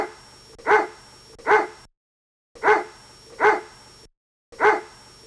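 A dog barks in short, sharp single woofs, five in all, spaced roughly evenly in pairs with brief silent gaps between, close and clear with nothing else heard.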